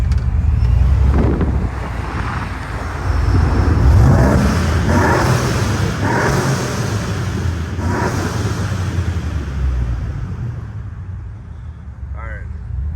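A turbocharged Chevrolet Silverado pickup engine revs loudly up close with a broadband roar, rising and falling in a few surges before settling, as people talk over it.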